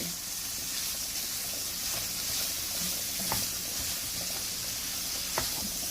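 Sausage frying in a pan gives a steady, even sizzle throughout, with a couple of faint clicks or pops standing out along the way.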